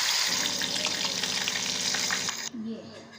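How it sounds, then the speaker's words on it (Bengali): Loud, dense sizzling of katla fish frying in hot oil, which cuts off abruptly near the end. "গরম হয়ে গেলে একে একে মাছগুলো সব দিয়ে ভালো করে ভেজে নেওয়া হলো"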